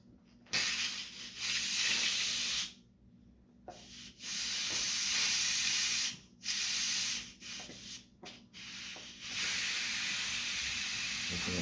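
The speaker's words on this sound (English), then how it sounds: "Steam out once it's depressurized." An Instant Pot vents steam as it depressurizes. Loud, broad hissing bursts come in several long stretches broken by brief pauses and short puffs, close by and with no voices.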